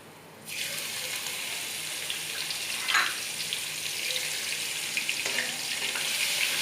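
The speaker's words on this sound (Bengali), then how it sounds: "এবার আমি এর মধ্যে ওই থেতো করে রাখা রসুনগুলো দিয়ে দেব।" Crushed garlic hits hot oil in a pan for a Bengali chicken curry, a sudden steady sizzle that starts loud and keeps hissing continuously, with a brief burst of sputtering partway through.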